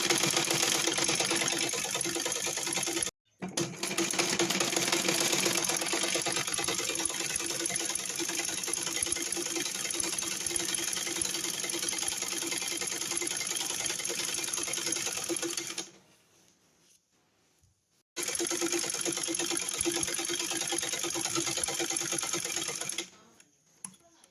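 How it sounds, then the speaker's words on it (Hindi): Domestic sewing machine stitching a trouser seam, running steadily and close for long stretches, with one brief pause early on and a longer stop before it resumes. "फिर हम सिलाई लगाएंगे।"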